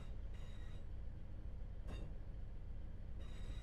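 Class 158 diesel train in Train Sim World 4 arriving at Nottingham, a low steady rumble of rolling stock with a few brief hissing bursts, quiet and continuous, no voices.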